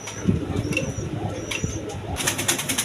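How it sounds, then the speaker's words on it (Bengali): Pair of pigeons cooing softly and intermittently at close range, with faint rustling and a brighter burst of noise near the end. "এখানে এক পেয়ার গররা কবুতর আছে"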